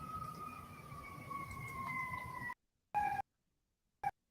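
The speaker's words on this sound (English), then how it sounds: "I can hear sirens." An emergency siren wails in the background of a poor-quality call connection, a faint steady tone that cuts out abruptly and returns in short bursts as the line drops.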